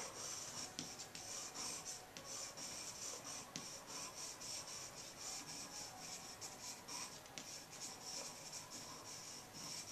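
A pencil shades dark areas on paper while drawing a plaster head, giving faint, close, continuous scratchy strokes in a quick, uneven rhythm.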